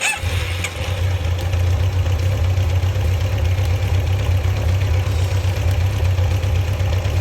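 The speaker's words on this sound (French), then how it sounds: "On n'entend que le moteur là." A motorcycle engine with synchronized carburetors idles steadily and evenly, a loud, close, low rumbling throb after a brief start at the beginning.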